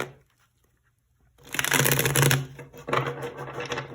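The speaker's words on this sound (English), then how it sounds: "we'll dive in and start shuffling and talk about the cards for the month" Tarot cards are riffled and shuffled up close in two bursts of crisp flapping, after a quiet moment, with no speech.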